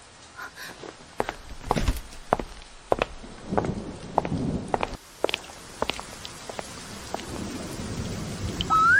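Heavy rain pours down near a muddy army camp, a dense hiss with thunder-like rumbles and scattered sharp knocks and footsteps over it.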